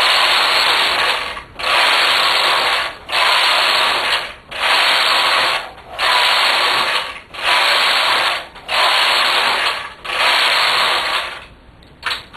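A knitting machine fitted with a ribber knits rows, its carriage swept back and forth in about eight loud, even passes of rattling, ratcheting mechanical clatter, each separated by a brief pause.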